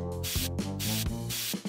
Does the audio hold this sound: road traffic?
no